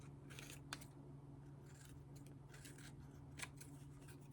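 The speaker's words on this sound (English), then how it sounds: "And I'm just gonna trim it" Scissors trimming material, with two faint, crisp snips standing out over a steady low hum in an otherwise quiet room.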